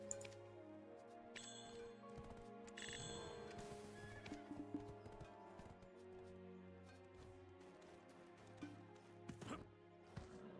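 A horse neighs in the online role-playing game Black Desert Online, a whinny over a busy bed of game music and ambient effects, with faint clip-clop and chime-like sounds mixed in.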